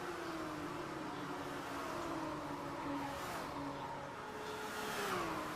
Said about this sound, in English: Look at that wad of cars